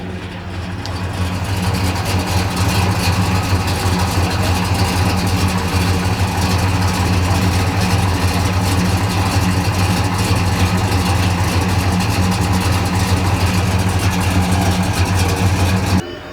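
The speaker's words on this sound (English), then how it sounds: "Doesn't the exhaust sound sweet?" A 1968 Dodge Charger R/T idles with its exhaust cutouts open, a loud, deep, continuous rumble that holds steady for the whole stretch, close by and without any talking.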